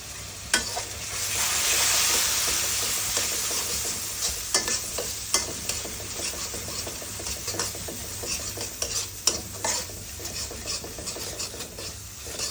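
Spices for a desi chicken curry fry in a pan with cardamom, cloves and a splash of hot water. A steady close sizzle runs throughout, broken by repeated scraping strokes of a stirring spoon.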